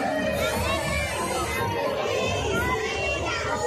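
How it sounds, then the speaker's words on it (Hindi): A large, dense crowd chatters continuously at a Ganesh pandal in Bhilai Sector 1, with adults and children talking and shouting all at once in a steady, busy roar. "काफी भीड़ है देख सकते हो"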